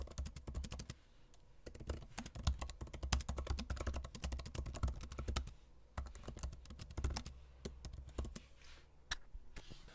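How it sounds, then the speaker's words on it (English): Rapid, continuous key clicks from typing on the keyboard of a 2020 Intel MacBook Air, close and steady for the full stretch, with short bursts and brief pauses and no voices. "I will go ahead and demo just how the keyboard sounds"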